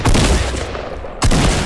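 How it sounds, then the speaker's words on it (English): A gunfight in the Fortnite video game, with a sharp shotgun blast at the start and a second loud shot about a second later, both hitting hard over a dense, busy game soundscape. "Yeah, shotgun to the back."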